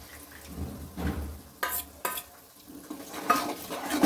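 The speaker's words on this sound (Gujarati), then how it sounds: "સારી રીતે મિક્સ કરી દઈશું।" A spoon stirs a dissolved spice masala into a pan of paneer curry, giving intermittent scraping knocks and a soft wet sizzle in a home kitchen.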